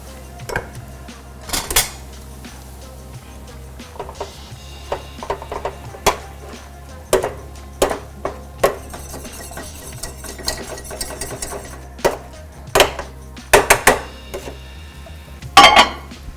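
Boiled potatoes being mashed in a pot for a vegan home-cooked meal, with irregular sharp clanks and scrapes of a masher against the pot over a low steady background hum, spaced knocks growing busier toward the end.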